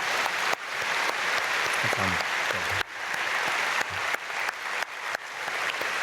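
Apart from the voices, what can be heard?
congregation applause in church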